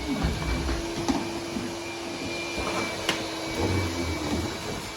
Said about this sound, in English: just to finish off these three is my vacuum cleaner